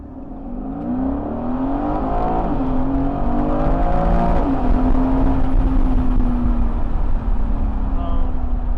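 A 2021 Aston Martin Vantage Roadster accelerates hard on a road in Dubai, its engine note climbing steadily through the gears into a loud, sustained roar heard from inside the car.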